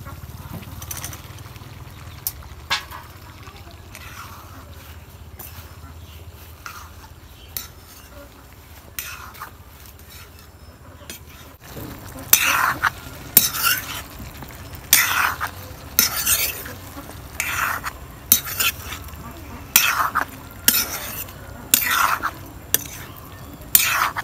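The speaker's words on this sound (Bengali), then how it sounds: "এখন আমি লাউ যে কুইটা খুঁজি সেই লাউ এখন দিয়ে দিব।" Bottle gourd tipped into chicken curry in a pot and stirred: a quieter stretch gives way to loud, rhythmic scrapes and clinks of a spoon against metal, with faint sizzling underneath and no talking.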